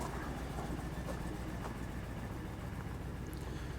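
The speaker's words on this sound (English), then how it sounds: "keep in mind that this exhaust is broke, so it's not gonna sound like a stock exhaust anyway" A GMC Sierra truck engine idles through a broken Rumble Performance dual exhaust, giving a steady, deep, continuous rumble with no voices.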